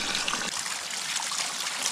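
Wild mountain vegetables are rinsed in a flowing forest stream, with continuous bright splashing and trickling water close by, steady and unbroken, with no voices.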